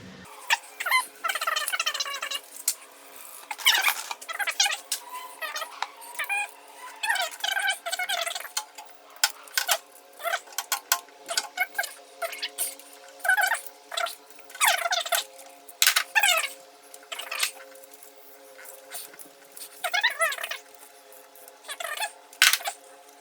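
Spark plugs are worked out of a 2006 Mercedes E350 M272 V6 with a hand tool, in bursts of close, sharp ratcheting clicks separated by short pauses.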